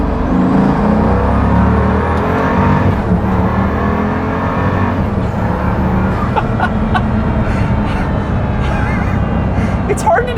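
A Pagani Huayra hypercar accelerates hard at high speed, its engine note climbing in loud, close pulls broken by abrupt gear shifts, with a voice talking over the roar.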